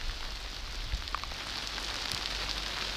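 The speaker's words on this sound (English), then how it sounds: "And now it's hailing." Hail and cold rain pelting down on a mountain hiking trail in Colorado, a steady dense hiss of ice pellets with a few sharper taps standing out, close and fairly loud, with no voices.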